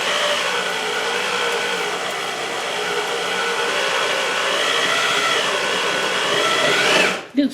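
A slow-running drill bores through steel on an XS650 motorcycle frame with cutting oil, a steady continuous grinding whir that holds for several seconds before cutting off abruptly.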